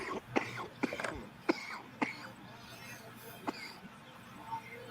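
Several sharp coughs, about five or six, come in irregular bursts, fairly close, with a bit of murmuring and shuffling between them.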